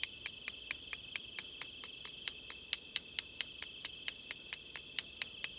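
Cicadas call at night, a constant high buzz pierced by evenly spaced rapid clicks, steady and unbroken with no voices.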